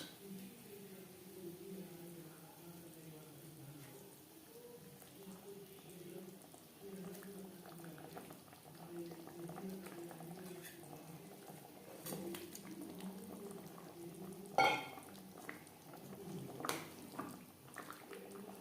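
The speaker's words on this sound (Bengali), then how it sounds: "তিন চার মিনিট গ্রেভি বেশ ভালো করে ফুটিয়ে নেব" Tilapia fish curry gravy simmering in a pot, a soft low bubbling and gurgle running steadily beneath a quiet voice talking, with an occasional faint clink near the end.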